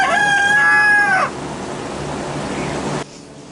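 A rooster crows loudly and close by at a chicken coop, a single drawn-out call, then a steady wash of hen clucking and farmyard noise runs on until it stops suddenly.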